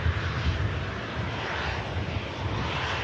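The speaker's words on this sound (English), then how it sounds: "Vacating here, the Sun Express 737 coming in from Antalya." SunExpress Boeing 737 arriving from Antalya at Manchester Airport, rolling off the runway: a steady, moderately loud jet roar with low rumble, continuous and even throughout, no voices.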